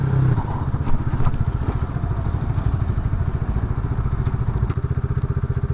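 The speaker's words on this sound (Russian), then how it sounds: "это мотоцикл." A Geon Scrambler 250 motorcycle chugs along in slow traffic, its single-cylinder engine giving a close, steady rapid thumping with rattles and small knocks over a low drone.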